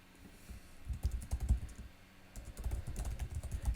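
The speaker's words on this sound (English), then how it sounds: "Type in my Brivity username" Computer keyboard keys clatter in two quick bursts of typing, a username being entered, with a short pause between them; close and fairly quiet, with no voices.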